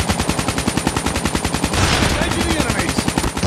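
Rapid automatic gunfire in Call of Duty on iOS, a steady rattling stream of close, loud shots with a brief heavier burst midway, no voices.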